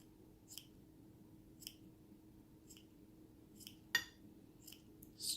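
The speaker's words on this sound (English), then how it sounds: "Just trim it and trim and trim until you get it how you like it" Scissors trimming crocheted yarn, about half a dozen soft, separate snips spaced out over a few seconds, close and quiet in a still room, with no talk.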